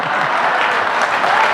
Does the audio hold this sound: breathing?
no